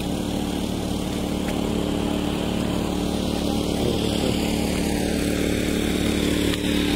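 A tractor churns a muddy paddy field being prepared for rice planting in Kumbhavade, Rajapur. Its engine gives a steady, loud, buzzing drone that runs unbroken throughout, with no voices.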